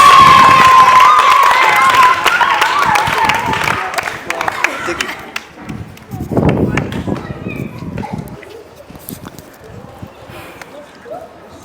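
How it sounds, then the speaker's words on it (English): Schoolchildren at a Ghanaian school clapping and cheering for their school prefect, loud at first then thinning into scattered claps and shouts, with voices mixed throughout. "let's clap for Senior Francis"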